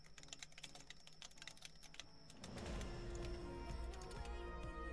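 Rapid keystrokes patter on a computer keyboard close up, an uneven run of light clicks that continues over a louder low hum and background noise arriving midway.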